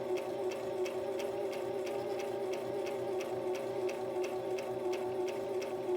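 A sewing machine runs slow and steady while stitching the top seam of a face mask, giving a continuous close mechanical hum with an even rapid ticking of the needle throughout.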